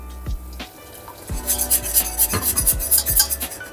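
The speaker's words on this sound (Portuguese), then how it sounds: "a gente raspar o fundinho da panela para poder tudo" A spoon scrapes the bottom of a pan while cream is stirred for a chayote gratin, a rasping, scratchy rhythm of repeated strokes with a few low knocks against the metal, close and fairly loud, with no voices.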